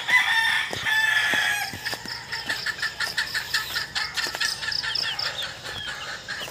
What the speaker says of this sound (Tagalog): Ito po yung ating mga sisiw.